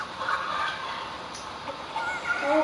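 Chickens cluck in the Fortnite video game, short scattered calls rising over a steady wash of in-game ambient noise, moderately quiet throughout with no talking.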